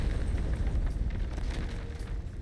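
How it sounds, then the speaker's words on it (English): An explosion in the video game Reverse: 1999 gives a dense, sustained rumbling roar, with crackling debris over heavy low-end boom, loud throughout without pause. "The explosion knocks her off balance."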